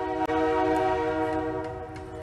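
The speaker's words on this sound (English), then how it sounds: "And there's a train coming too." A train passes close by, its loud sustained horn blaring almost continuously with a brief break near the start, over a rumble of rail noise.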